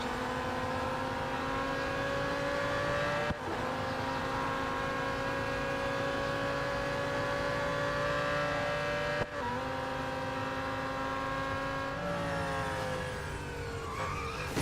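McLaren Solus GT race car engine in the Real Racing 3 mobile game, a quiet, strained tonal whine that holds high revs and dips sharply at each of several gear shifts.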